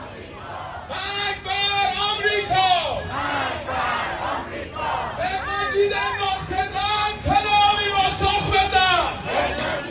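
A large crowd of Iranians packs the streets of Tehran, chanting loudly in rhythmic unison, with repeated surging shouted slogans and background hubbub.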